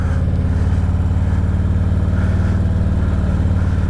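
A motorcycle engine runs close and loud at the start of a ride, a steady, throbbing low-pitched drone with no break.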